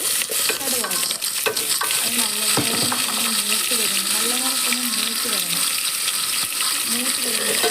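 Mustard spices, green chillies and curry leaves sizzle and crackle in hot coconut oil, with stirring scrapes and clatter in the pan; close and busy, a faint voice now and then.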